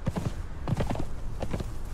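Horse hooves in the video game Conan Exiles: a few quick clusters of clip-clopping steps, close and moderately loud, with uneven pauses between the short bursts.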